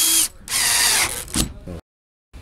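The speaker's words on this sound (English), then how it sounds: "you're gonna screw in 2 screws to hold it up" A power drill drives screws into a Super Chexx split base with loud, close whirring bursts, a brief mechanical rattle, then a sudden stop into silence.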